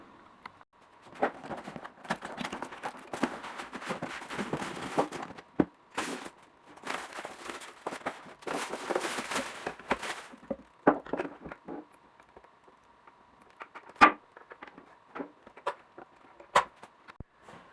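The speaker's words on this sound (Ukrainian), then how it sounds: "як ви бачили, я розпаковував, по бокам йде ось такий пінопласт і ось такі потужні коробці" A sandwich maker being unpacked from a sturdy cardboard box with styrofoam packing at the sides: close crackling, squeaking and scraping rustles, with dense busy stretches followed by sparser bumps and a sharp knock, and no one speaking.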